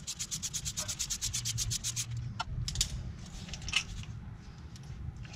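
Wrench work loosening two 13 mm bolts on the crank position sensor bracket of a GM 3800 engine, heard as close, steady rubbing and scraping strokes with a few sharper clicks and knocks, no voices.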